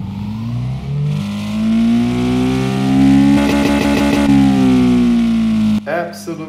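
Video game dirt bike engine idling with the clutch pulled in, a loud, steady buzzing drone whose pitch drifts slightly, then cuts off abruptly near the end into a short burst of other sounds.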